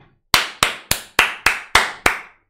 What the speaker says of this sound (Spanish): ¡Un aplauso para esto